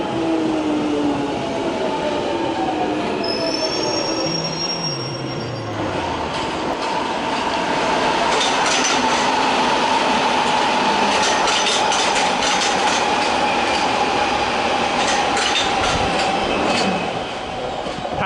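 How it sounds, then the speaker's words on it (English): Trains pass through West Hampstead station in London, where Underground, Overground and Thameslink lines run: rolling wheels rumble and clatter close by for the whole stretch, with a brief high squeal of wheels early on and a steady roar of passing carriages. "Service to Stanmore arrives, meanwhile there goes the service to Stratford."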